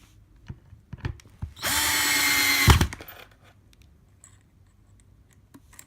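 A power drill drives screws to fasten a plate down, giving one close whirring burst of about a second amid quiet knocks and handling sounds.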